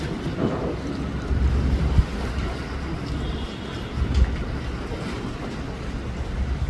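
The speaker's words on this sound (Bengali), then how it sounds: "এই জাহাজটা অনেক জোরে যাচ্ছে ঢেউ আশা করি হবে অনেকটা এটাও অনেক বড় জাহাজ" A large ship passes at speed near the Diamond Harbour ferry ghat, heard as a steady low rumble and rushing wash with wind buffeting the microphone throughout, loud and continuous with no clear peaks.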